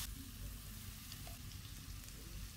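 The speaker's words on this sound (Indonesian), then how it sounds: "Kita masukkan bumbu yang udah dihaluskan." Ground spice paste fries in reused cooking oil for Indonesian orek tempe, giving a steady, close crackling sizzle that runs evenly throughout with no voices.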